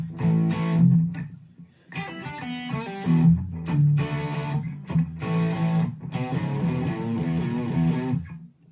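Electric guitar played through an overdriven Helix Stomp preset, a run of gritty, distorted chords and riffs in uneven phrases with short gaps, loud and up close, with no voices over it.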